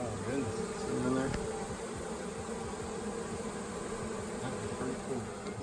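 A honey bee swarm being removed from a house hums and buzzes steadily and densely up close, a continuous droning texture with faint voices in the background.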